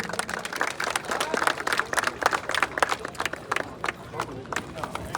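An audience claps for a third-place Gir bull at an Indian cattle show. Dense, rippling applause runs throughout, with crowd chatter and speech mixed in at moderate volume.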